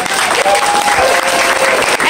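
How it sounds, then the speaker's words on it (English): Loud, steady applause from an audience fills the space, a dense continuous wash of clapping. "can everybody just give them a good round of applause?"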